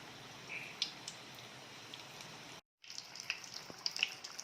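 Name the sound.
wheat onion samosas frying in hot oil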